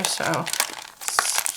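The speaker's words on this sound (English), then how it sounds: "excuse the noise as I take the plastic off of it to show you." Plastic wrapping crinkles and tears as it is pulled off a new art supply, a close, busy rustle with a short pause, while a voice speaks briefly over it.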